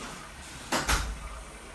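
Cupboard doors in a hotel room kitchenette in Batumi are pulled open, giving two quick close clunks in a row against a quiet room hum.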